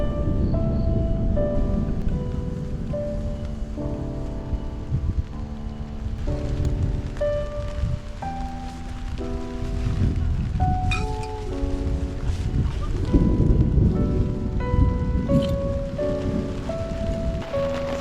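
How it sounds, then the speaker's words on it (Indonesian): Moderate rain falls steadily on a campsite on Bukit Kabayan hill, a dense continuous patter that runs throughout with no talk, mixed with tonal sounds over it. "Ini hujan tapi nggak begitu deras, tapi cukup lumayan."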